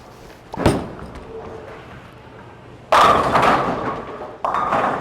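A bowling ball thuds onto the lane and rolls, followed by a louder clatter of pins being struck, with a second burst of crashing near the end; the impacts come through clear in an indoor alley.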